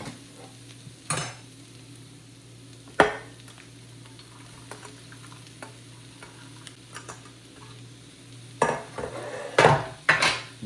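Carrots and cabbage stir-fried for street-style veg Hakka noodles: a spatula clanks and scrapes against the pan in scattered strikes over a steady low sizzle, growing busier toward the end, with no talking.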